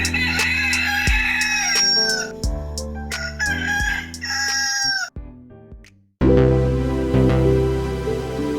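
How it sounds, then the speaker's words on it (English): Rooster crowing as a sound effect: loud, repeated cock-a-doodle-doo calls close up, several harmonic crows in succession with a brief gap before a final long crow. "Let's cue the rooster and get this show started."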